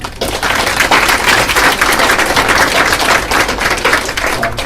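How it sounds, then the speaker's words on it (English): Steady applause from an audience at a university networking event keynote, loud and dense clapping sustained throughout without pause. "Round of applause for EOP."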